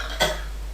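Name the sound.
patient coughing after swallowing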